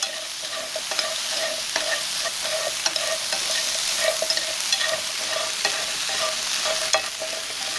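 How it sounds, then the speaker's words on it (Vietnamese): Shrimp heads with onion are stir-fried in a pan, crackling and sizzling steadily, with frequent sharp scrapes and clicks as they are tossed and stirred, up close and without talk. "Kế đến thì mình cho đầu tôm vào để rang."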